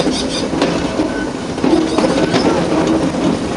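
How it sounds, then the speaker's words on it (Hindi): An Ooty mountain railway train rolls through a short tunnel, a loud, steady rumble with rhythmic wheel clatter and faint squeals, close and enclosed. "देखिए, एक छोटा सा और टनल से हम पास हो रहे हैं"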